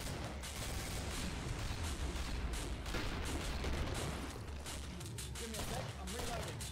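Rapid sustained gunfire from the video game Killing Floor, dense overlapping shots and bursts filling the whole stretch at a steady level, with players talking over the action.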